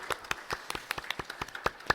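Light, scattered hand claps come from a church congregation at a Korean university church Sunday service: about a dozen distinct, fairly quiet claps in a loose, uneven rhythm.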